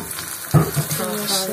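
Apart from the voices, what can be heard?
eggs frying in a pan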